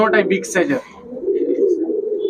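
Rajshahi Giribaz pigeons coo in low, soft murmurs after a brief burst of a man's speech at the start.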